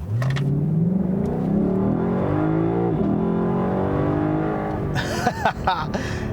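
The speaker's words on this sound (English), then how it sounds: "This is just one seriously fast car." A 2018 Lexus LC500 sports car accelerates hard, its engine revving loudly and climbing steadily through the gears, with a brief dip at a shift and some clatter near the end.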